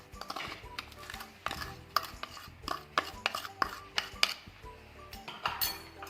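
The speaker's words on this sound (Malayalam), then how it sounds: "എല്ലാം കൂടി നമുക്ക് ഇതുപോലത്തെ ഹാൻഡ് വിസ്ക് ഉപയോഗിച്ചിട്ട് നന്നായിട്ടൊന്ന് മിക്സാക്കി എടുക്കാം" A hand whisk mixing sugar into vanilla sponge cake batter in a bowl, with quick irregular metallic clinks and taps against the bowl at close range, with no talk.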